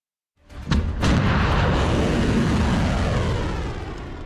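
A deep, sustained roar with sharp cracks at the start from a volley of Iranian ballistic missiles launching, heavy blasts rumbling on, loud and continuous.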